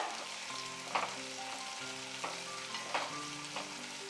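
Tomato dropped into garlic and onion frying in sesame oil sets off a steady, moderate sizzle, broken by a few soft stirring knocks and spatters.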